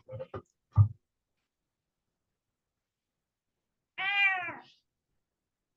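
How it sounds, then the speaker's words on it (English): A cat meows once, clear and fairly close, after a few short muffled knocks and a stretch of silence. "We're listening to your cat as well."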